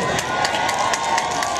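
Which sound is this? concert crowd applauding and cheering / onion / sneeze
concert crowd applauding and cheering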